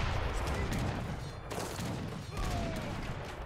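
Honored hand mortars firing gunpowder rounds at units in a late-game Age of Empires-style battle, a dense, steady clatter of overlapping shots and booms throughout, with faint talk mixed in.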